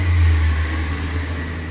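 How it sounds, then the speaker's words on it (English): A garbage truck drives past outside a home garage, a steady low engine drone and hum, moderately loud and continuous with no speech. "That was my rubbish truck just going past."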